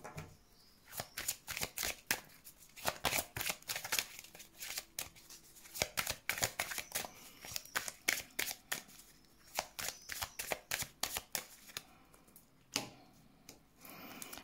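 Tarot cards shuffled by hand for a reading, a rapid run of crisp riffling slaps and flutters in repeated bursts, close and fairly loud, with no talk.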